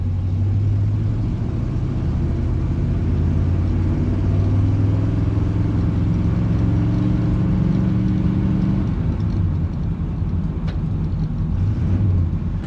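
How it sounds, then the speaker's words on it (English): A steady, low Chevy engine rumble idles continuously with a rough, breathy rasp from an exhaust leak, loud and close throughout with no talking. "Got a little bit of an exhaust leak I can already hear."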